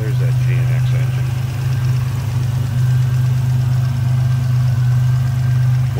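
A 1987 Buick Regal Grand National GNX engine idles close by, a steady low droning rumble that holds even throughout, with no clear breaks.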